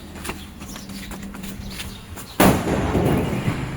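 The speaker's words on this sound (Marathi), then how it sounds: "पहिला बॉम्ब लावतोय रस्सी बॉम्ब, सुतळे बॉम्ब पण होता त्याला" A rope-wrapped sutli bomb firecracker goes off outdoors during a Diwali celebration, one sharp loud blast after a stretch of background clatter, followed by a lingering rumble and crackle.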